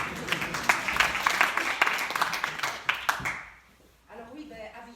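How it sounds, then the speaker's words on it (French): Audience applause at an evening storytelling show, dense clapping for a few seconds under an announcer's voice, then fading out as talk continues alone. "vous le connaissez, on peut l'applaudir également."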